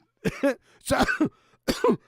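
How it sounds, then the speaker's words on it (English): Three short bursts of coughing, each a pair of harsh hacks, spaced about a second apart and fairly close. "That made you cough."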